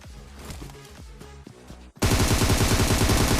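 Rapid gunfire from a battle royale video game in a solo-versus-squad match, starting as a quieter rhythmic burst and then turning into loud, dense, sustained automatic shooting in the second half.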